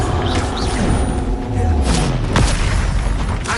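A Confringo fire spell blasts in Hogwarts Legacy, landing as a loud, booming burst with a whooshing tail amid other spell effects.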